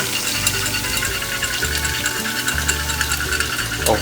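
Milk, butter and béarnaise sauce mix being whisked in a pan, a close, steady scraping and rattling of the whisk against the metal over a low background hum.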